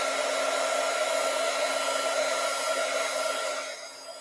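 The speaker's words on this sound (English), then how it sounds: "So I just got my heat gun." A heat gun blows hot air over envelopes with a loud steady whooshing roar and a constant motor whine, running alone and easing off slightly at the very end.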